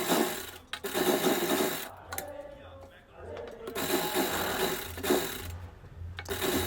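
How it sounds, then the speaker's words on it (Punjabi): A sewing machine stitches a matching fabric border around the edges of a suit. It runs in steady whirring bursts separated by short pauses, with faint background hum. "ਸੂਟ ਦੇ ਨਾਲ ਦਾ ਕੱਪੜਾ ਜਿਹੜਾ ਲੈ ਕੇ ਮੈਂ ਚਾਰੋਂ ਪਾਸੇ ਇਹਦੇ ਸਲਾਈ ਲਗਾ ਲੂੰਗੀ"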